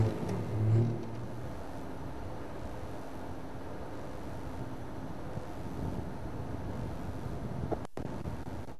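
An open safari vehicle rolls slowly along a bush track while out watching leopards, with a low, steady engine drone and rumbling wind noise that stay fairly quiet and even throughout, with no voices.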